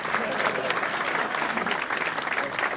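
Dinner guests applaud at an Athletic Hall of Fame banquet at Amici's Restaurant in Linden, a lively burst of clapping with crowd noise and voices mixed in, loud and continuous.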